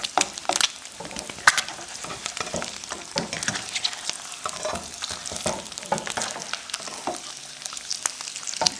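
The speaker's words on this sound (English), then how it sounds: "I'm going to try to carefully flip them." Eggs sizzle and crackle steadily in a hot frying pan, with scraping and clinks from a spatula as they are flipped close up.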